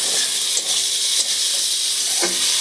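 Tengra fish tipped into a hot spice paste sizzles loudly and continuously with a bright hiss, and a few scraping stirs sound up close over the frying.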